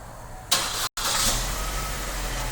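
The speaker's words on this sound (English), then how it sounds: "This is going to trigger the remote starter to start the vehicle." A 2012 Chevrolet Cruze engine cranks and catches when triggered by a remote starter, a sudden loud start after a brief pause, then a steady close idle rumble.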